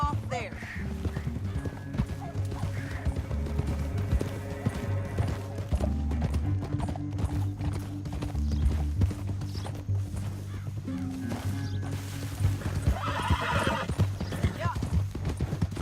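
A horse in the Red Dead Redemption 2 video game clip-clops along at a steady galloping rhythm, neighs and whinnies at points, and trots under game music and speaking voices throughout.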